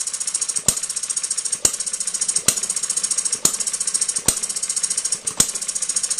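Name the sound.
hit-and-miss model engine speeding up with throttle lever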